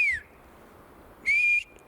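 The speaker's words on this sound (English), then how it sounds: "You'll never see that bird whistle unless they're not in view" A bird whistles nearby with two clear, bright whistles: a brief falling note at the start, then a longer, louder steady note after a pause, with faint background hiss.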